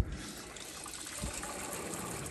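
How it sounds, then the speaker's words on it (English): Water rushes steadily through household PEX plumbing and into the sinks as the supply comes back on after a repair, a faint, even hiss of running water. "I hear water going into the sinks."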